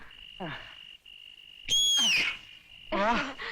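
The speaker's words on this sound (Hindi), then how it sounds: "अगर सीटी बजानी है तो जरा स्टाइल में बजा।" A man whistles in a showy, stylish way, first a long steady tone, then sliding rising and falling whistles, with short voiced sounds in between.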